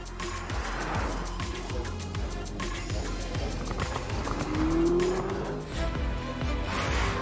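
A Lamborghini Urus runs hard with continuous, steady engine noise and what sounds like a tire squeal or skid, moderately loud and close throughout, without talking.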